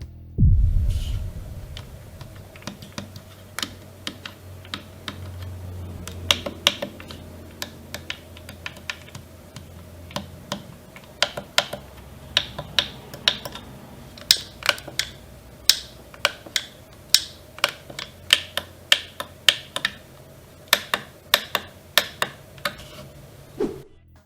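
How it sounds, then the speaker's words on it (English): A string of crisp plastic clicks from flight stick switches, some single and some in quick pairs, tapping at an uneven pace over a faint steady hum. "Here's how the switches sound."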